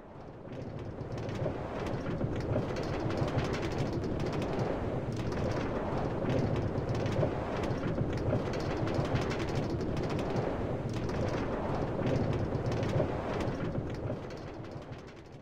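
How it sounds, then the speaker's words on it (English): A New York City subway E express train bound for Jamaica Center running on CBTC, a steady loud rumble and rattle of wheels and car body holding evenly throughout and easing off at the very end. "This is a Jaminca Center Parsons Archer bound E Express train."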